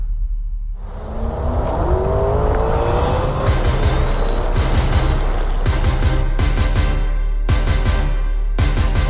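A life-size LEGO McLaren P1 drives around the Silverstone circuit, its electric motor whining as it rises in pitch while accelerating, steady and close, with repeated bursts of crackling noise and no talk.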